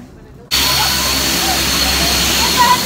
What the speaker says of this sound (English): We're going on their private plane.